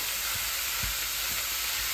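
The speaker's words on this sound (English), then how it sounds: "the mince is going to go straight on that pan, which means you're going to get that caramelized browning" Minced meat sizzling as it browns in a hot pan: a constant close, hissing crackle of frying, with a few soft low bumps underneath and nobody talking.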